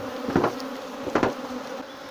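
Honey bees buzz around the boxes of a recently split hive, with two nearby insects swelling past on top of a steady background hum and no voices.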